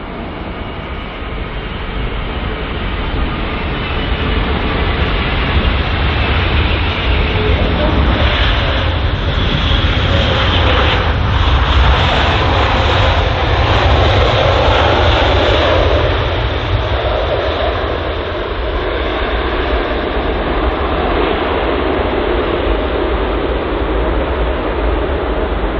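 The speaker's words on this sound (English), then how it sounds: "The aircraft that's just departed" A jet aircraft departing London Heathrow, a loud continuous roar that swells slightly in the middle and stays strong for the whole stretch, with no talk.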